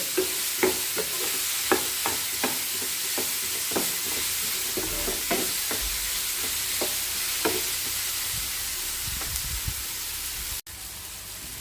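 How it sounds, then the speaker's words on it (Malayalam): Ripe nendran plantain stirred and frying in a pan, a bright continuous sizzle with regular scraping strokes of the spoon roughly every half second, close and fairly loud, ending with a brief dip. "നന്നായിട്ടൊന്ന് ഫ്രൈ ചെയ്തെടുക്കാം"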